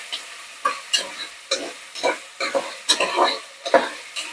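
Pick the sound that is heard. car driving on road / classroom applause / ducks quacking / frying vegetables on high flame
frying vegetables on high flame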